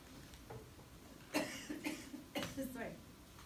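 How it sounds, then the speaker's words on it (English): A lecturer in a classroom coughs from chalk dust, several short rough coughs in two bursts, close and moderately loud against a quiet room. "Every time I go near chalk, it makes me cough."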